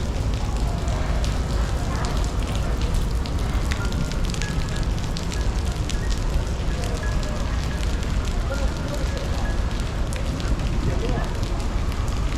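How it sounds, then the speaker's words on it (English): Heavy rain pouring down during a black rainstorm warning on a Hong Kong street, a dense, continuous roar of downpour with splashing, loud and unbroken for the whole stretch. "It's been raining all day."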